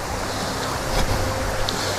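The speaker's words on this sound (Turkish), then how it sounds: "Tumbi Deresi'ne inmiş bulunuyoruz." Tumbi stream on a Trabzon highland footpath rushes steadily, a loud, continuous broadband wash of flowing water with no voices.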